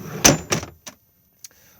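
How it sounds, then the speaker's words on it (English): A storage drawer under a bench seat in an Auto-Sleepers Warwick Duo motorhome slides out with a couple of quick rumbling pulls and then light knocks, close and brief. "this drawer can also just slide out"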